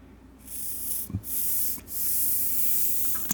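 Air blown through cleaned dirt bike carburetor jets makes a steady close hiss, broken by two brief pauses, with a slight puff at the end.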